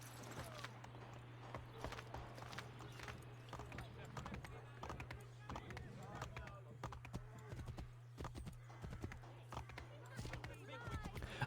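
Horse hooves clip-clop through a street in an Assassin's Creed game, a quick uneven run of hoofbeats set over a steady low hum with other game sounds around it, no talking.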